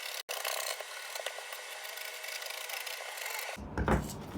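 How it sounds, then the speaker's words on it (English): Scissors cutting through Ankara fabric along a sleeve pattern, giving a continuous close rasping snip and rub that stops abruptly near the end, with no talk. "Okay, so I'm going to go ahead and cut it out."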